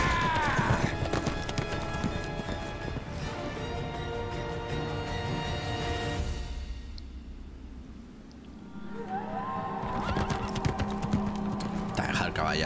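Hooves clip-clop in the video game Nioh, a rhythmic patter of hoof beats that drops away midway and then returns amid game sounds and music.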